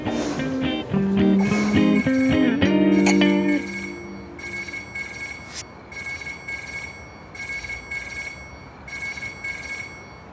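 A telephone rings during a call in a romantic drama, with repeated bright electronic ring bursts in an even rhythm after an opening stretch of music.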